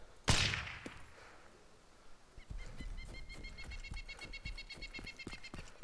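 A silenced gunshot in the survival game DayZ: one sharp, muffled crack near the start that quickly fades, followed by quiet outdoor ambience with bird-like chirps and faint clicks.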